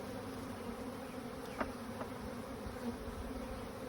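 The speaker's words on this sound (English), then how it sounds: "I see that there's plenty of bees in there." Honey bees in a packaged hive give a continuous low, faint buzzing hum, close by, with a couple of brief louder passes of individual bees.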